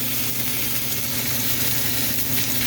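A steak sears in a hot cast iron pan with a steady, loud, even sizzle that hisses without pause. Nobody talks.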